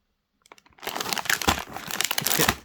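Plastic wrapper of Roshen Lovita cookies crinkling and tearing as it is opened, a few faint ticks first, then a dense close rustle for about two seconds.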